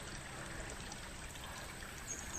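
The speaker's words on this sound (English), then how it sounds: "This creek here is called Town Creek." Town Creek flows with a steady, soft trickling and pouring rush, continuous and close by, with no voices over the water.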